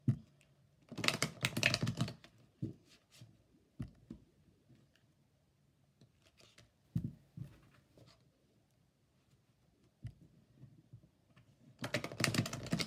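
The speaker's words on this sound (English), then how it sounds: "Three shuffles, and then we'll get rolling." Tarot cards being riffled and shuffled up close in quick rustling bursts, with scattered soft clicks and taps between the louder shuffles.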